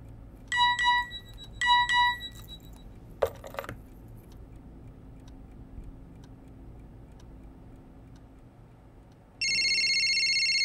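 A landline telephone rings in two short electronic bursts near the start, followed by a faint clatter, with a steady tone entering near the end, in a quiet room with no talk.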